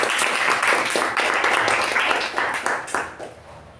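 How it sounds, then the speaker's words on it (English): Attendees at a Toastmasters club meeting give a dense round of applause that holds steady and then thins out toward the end. "can we have a big round of applause for Toastmasters?"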